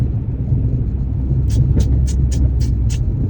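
A car's engine rumbles as a deep, steady drone heard from inside while driving, with a quick run of six crisp ticks near the end.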